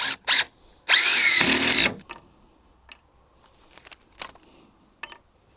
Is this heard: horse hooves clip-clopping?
no